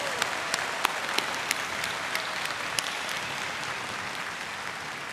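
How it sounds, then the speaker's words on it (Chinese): A large audience at a presidential inauguration applauds to welcome international guests, sustained dense clapping with a few sharper claps standing out early, loud and steady throughout. "我们是不是用最热烈的掌声欢迎感谢他们？"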